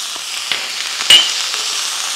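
Carrots and mixed vegetables sizzle steadily in a pan as soy sauce is poured in, a soft frying hiss with a brief louder burst at the moment the sauce hits.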